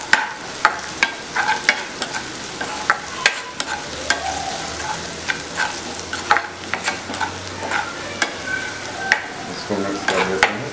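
Red chilli powder, cumin powder, coriander powder and turmeric fry in a pan, a steady close sizzle punctuated by frequent rhythmic spoon clinks and scrapes as the spices are stirred, with faint talk now and then.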